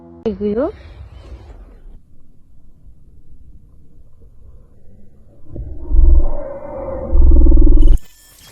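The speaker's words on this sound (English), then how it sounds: "What's your take on this mysterious growl?" Low, rumbling animal growl in a wooded area near Mississauga, Canada, with two sustained louder rumbles near the end after a faint earlier call, then a burst of wind-like noise.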